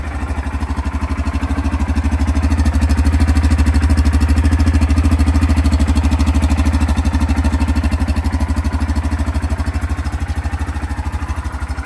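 A 2024 Yamaha Kodiak 450 ATV engine idles steadily and close by. It gives a loud, even, rapid thumping with no revving and no voices.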